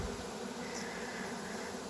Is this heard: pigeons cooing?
no